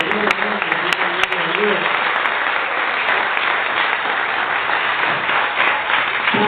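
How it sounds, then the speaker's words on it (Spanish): A church congregation applauds the Lord, producing continuous, energetic clapping from many hands that stays loud for over six seconds, with some voices and crowd noise mixed into the start. "Damos aplausos al Señor"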